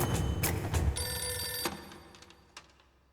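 A telephone rings in a room, a few quick loud bell bursts followed by fading ringing with a faint later ring, no voices over it.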